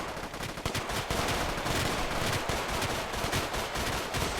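Rapid automatic gunfire in a video game, loud and dense bursts filling the whole stretch with sharp repeated shots, no talking over it.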